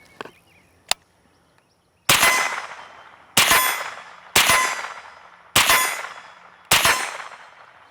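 Five sharp, loud suppressed shots from a Springfield Armory Kuna crack at irregular intervals, each with a short ringing decay, after a couple of faint clicks.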